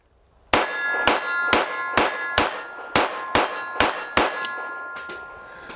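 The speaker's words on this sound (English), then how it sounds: "a little plinking out at the range would not be complete without ringing a little bit of steel" Nine .22 rounds from a Ruger Mark I pistol strike a steel target at 15 yards at an outdoor range, each hit a sharp bright metallic clang with a ringing decay, evenly spaced at roughly half-second intervals, loud and clear with no talk.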